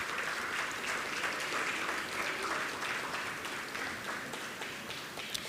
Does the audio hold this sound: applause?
yes